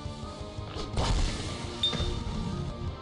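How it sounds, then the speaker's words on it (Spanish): Crystals are smashed in the video game Cris Tales, two crashing impacts about a second apart over a steady game background, with no one talking. "vamos a romper cristales del pasado para envenenarlo"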